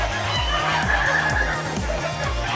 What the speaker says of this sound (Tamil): இந்த வாத்து கூட்டத்துக்கிட்ட ஒரு வாத்து கூட்டம் வந்து அமகலம் பண்ணிங்குதுங்க.